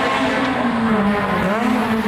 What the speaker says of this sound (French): Comme vous pouvez entendre, aujourd'hui c'est course d'endurance